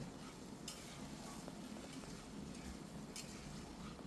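Kidney beans (rajma) being sautéed with spices in a pan: a steady low sizzle with soft stirring scrapes running throughout, moderately close, no talking.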